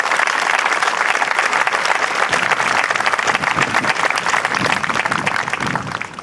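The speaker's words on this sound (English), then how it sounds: "If you could give a round of applause," A dense, loud round of applause rings out across the crowd at a veterans memorial dedication, sustained and even throughout without letting up.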